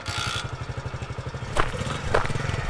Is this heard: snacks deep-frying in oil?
no